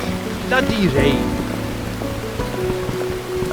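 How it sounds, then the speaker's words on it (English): Steady rain pours in the horror game Burnhouse Lane as a constant hiss, with a brief rising tonal cry and low droning notes near the start and soft knocks beneath. "Bloody rain."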